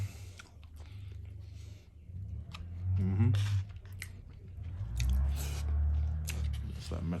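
Someone eats a birria taco after dunking it, with close, wet chewing and crunching bites in irregular bursts, while people talk quietly nearby.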